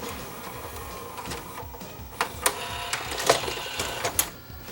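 A JVC HR-S5300 VCR with a damaged front loading mechanism whirs steadily as its motor runs, then gives a series of sharp mechanical clicks and clunks as the tape ejects, heard up close.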